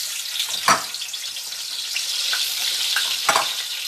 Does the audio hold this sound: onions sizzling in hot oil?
yes